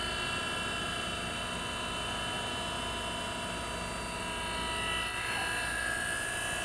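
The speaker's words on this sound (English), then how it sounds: "when I start up the machine, we got our ID spindle going" A machine's internal-diameter grinding spindle runs at speed, producing a constant, loud, tonal mechanical whine and hum with a slight swell toward the end.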